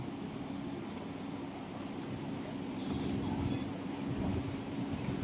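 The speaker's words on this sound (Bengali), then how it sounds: "এই আমাদের ট্রেন এখন স্টেশন ঢুকছে" A train pulling into Damnabarha station in West Bengal, a steady low rumble of wheels and carriage noise that swells slightly in the second half, close and continuous with no talk.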